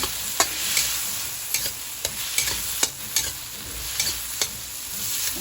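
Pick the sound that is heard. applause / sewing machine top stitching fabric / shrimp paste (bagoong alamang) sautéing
shrimp paste (bagoong alamang) sautéing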